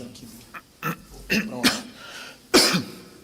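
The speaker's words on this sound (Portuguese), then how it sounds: "Essa tosse está braba" A man on a sports discussion broadcast coughs and clears his throat in several sharp, close bursts with brief pauses between them, ending in one strong cough.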